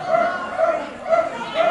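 A wrestling crowd barks like dogs in rhythmic, repeated bursts about every half second, a loud chanting roar filling the arena throughout.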